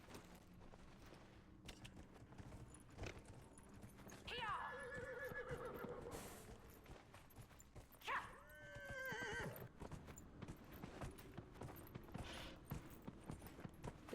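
Two loud horse whinnies ring out from a player's mount in Dragon Age: Inquisition, each a rising-then-falling neigh, with clip-clop hoofbeats and game ambience running underneath.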